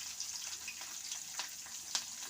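Curry leaves, green chillies and onion frying in hot oil for mango rice: a faint, steady crackling sizzle with a few sharper pops, quiet and continuous.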